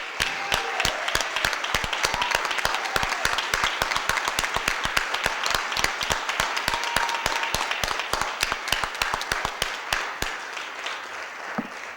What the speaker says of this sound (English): Let's give Sherry a big round of applause and thank you for a job well done